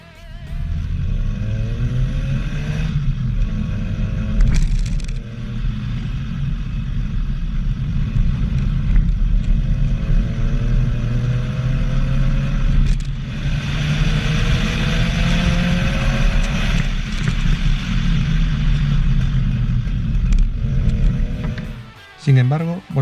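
A 1983 Ford Escort MK3 RS 1600i engine runs loud and close with a steady drone, its pitch rising and falling several times as it revs.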